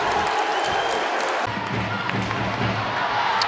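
Applause from teammates as an ice hockey player heads down the tunnel, a dense, steady wash of clapping and crowd noise filling the arena, with some commentary faintly over it.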